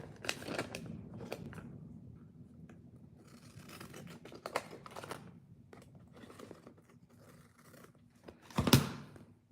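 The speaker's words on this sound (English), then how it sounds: "So I'm just going to snip that off." Scissors snip off excess pieces of a craft project, giving a few faint, close crisp cuts among soft scratchy handling rustles and one louder clack near the end, with no talk.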